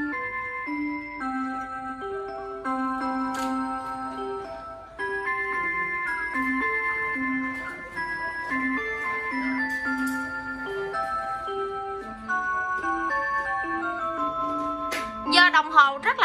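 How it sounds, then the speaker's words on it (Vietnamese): A dancing clock plays its chime and melody, clear tonal notes stepping through a tune continuously for the whole stretch, with a brighter flourish of bell-like tones near the end; steady moderate loudness, no talking. "mỗi lần reo á thì nó sẽ có cái chu trình tiếng chuông, tiếng nhạc khác nhau"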